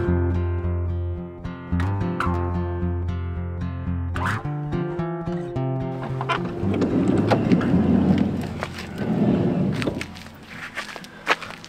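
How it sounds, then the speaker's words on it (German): Rain and thunder at night around a camper van in remote Sweden. Tonal sounds come first, then a dense patter of rain with deep rumbling swells that rise and fall, and a few sharp knocks near the end. "Es war echt gestern nur noch am Regnen."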